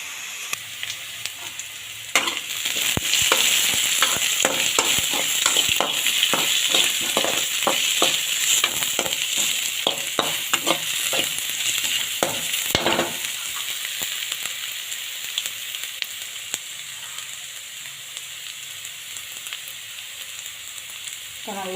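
Pirandai (adamant creeper) sautéing in a pan for a dried-fish curry, with a steady sizzle of frying and repeated clinking stirs of a spoon against the pan for several seconds, close up, with no talking.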